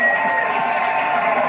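A studio audience at a late-night comedy talk show erupts in loud cheering and whooping, a dense crowd roar held at full level for a brief moment.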